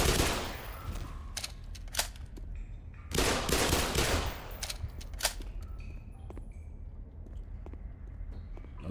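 Automated turrets fire machine guns in the sci-fi shooter Black Mesa, rapid loud bursts of gunfire in several volleys with short gaps, followed by scattered single shots and softer clatter.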